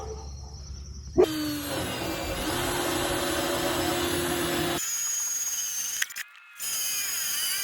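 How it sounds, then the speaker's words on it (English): A power drill with a hole saw bores through plywood with a loud, grinding whine that lasts several seconds. A higher, thinner motor whir follows after the cut. "If you push that hole saw completely through, it peels your plywood."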